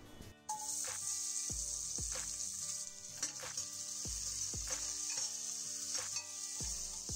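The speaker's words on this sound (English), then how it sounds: "Once that heats up, I'll be adding in sliced onions." Sliced onions fry in hot ghee for kuska rice. A bright, steady sizzle is overlaid by repeated low spatula thumps and scrapes roughly every second, close and fairly loud.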